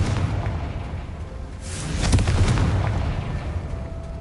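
Confringo explosion spell in Hogwarts Legacy, a single loud fiery blast partway through that swells into a rolling rumble and crackle over steady low ambient game noise.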